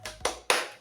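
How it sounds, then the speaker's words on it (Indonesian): Schoolchildren in a combined class doing a rhythmic spirit clap: three sharp, close claps in quick, even succession, with no talking. "kita tepuk semangat dulu ya"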